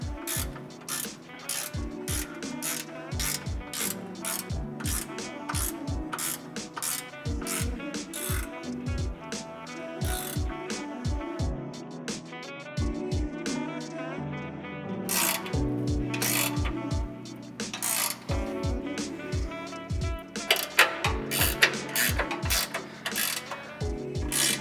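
A hand ratchet tightens bolts on a Toyota Tacoma third-generation skid plate bracket, its pawl clicking in quick, steady bursts close by, broken by short pauses between strokes, with no talking.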